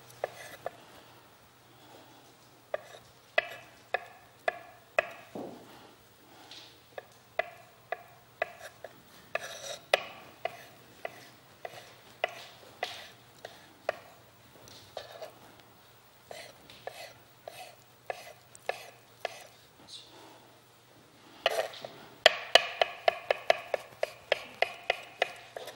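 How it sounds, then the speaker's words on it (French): Hard-boiled egg whites being chopped with a knife, a fairly steady series of crisp, close taps that speed into a faster, denser flurry near the end, with no talk over them. "Deuxième étape, nous allons hacher les blancs."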